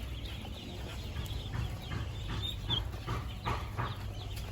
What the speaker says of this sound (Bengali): এখানে সবগুলোই হচ্ছে ক্যারেটে হাঁস আছে।